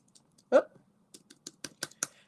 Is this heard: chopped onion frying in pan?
no